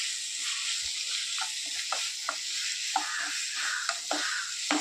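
Bitter gourd roast with jaggery syrup is stirred in a hot pan under a steady sizzle, with repeated soft scrapes and clicks of the spoon, close and continuous.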